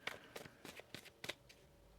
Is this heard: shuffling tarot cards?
yes